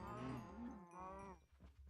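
Cows in a modded Minecraft Skyblock world give two drawn-out, low moos one after another, faint and slightly distant, with no speech over them.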